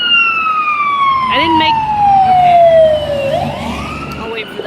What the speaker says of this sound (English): sometimes I like the sounds of sirens